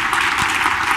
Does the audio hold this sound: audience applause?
yes